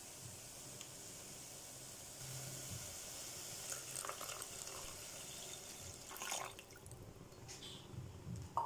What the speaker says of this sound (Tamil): இப்போ இதில் நம்ம தண்ணி ஆட் பண்ணிக்கலாம்.